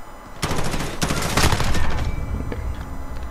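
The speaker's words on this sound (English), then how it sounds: "I'm gonna shoot that body all day long" Rapid automatic gunfire in the Modern Warfare video game, loud and dense, with continuous bursts rolling over one another for several seconds.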